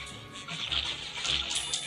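Watery splashing and gushing from a wave attack in the video game Battle Cats, a steady rushing water effect with brief louder surges, heard alone.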